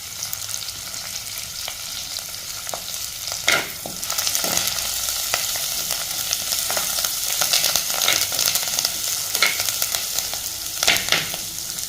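Curry leaves frying and wilting in a hot pan, a constant close crackling sizzle broken by several sharp scrapes and clicks of stirring.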